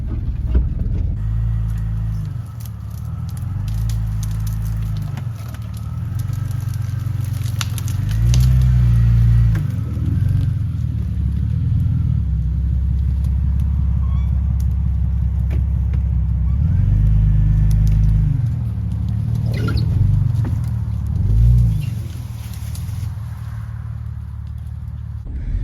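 A 2000 Jeep Cherokee XJ driving gently on the road, its engine and road rumble steady and close throughout, swelling with occasional mild surges and rattles, with no voices.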